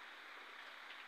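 Steady rain hiss in the trucking game Truckers of Europe 3, a soft continuous wash of falling drops heard alone for about a second.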